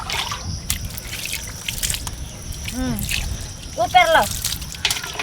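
Water poured over a person's feet during an outdoor bath, soft splashing and trickling in short bursts under loud talking and shouting voices.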